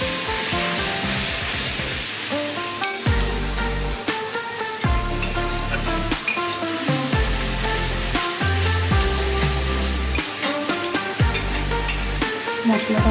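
Spice paste tipped into a hot pan of oil for doi potol, a Bengali yoghurt and pointed gourd curry, sizzling loudly and steadily with repeated stirring scrapes and clatters, no talk.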